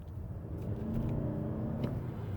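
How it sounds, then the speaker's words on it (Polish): Engine of a 2021 Lexus ES 300h hybrid droning at steady revs with a slipping-clutch-like feel, a low continuous rumble inside the car with no talking. "akustycznego efektu ślizgającego się sprzęgła, czyli uwaga tego"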